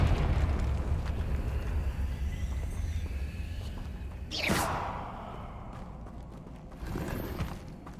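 A Confringo fire spell from the Hogwarts Legacy video game bursts out in a sharp, bright whoosh near the middle, over a low rumbling game soundscape, then gives way to a softer second burst near the end.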